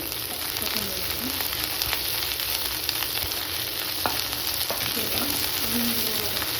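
Curry leaves sizzle and crackle steadily in hot oil for a Mangalore chicken curry, a dense continuous fry with small pops and occasional stirring scrapes, no talking.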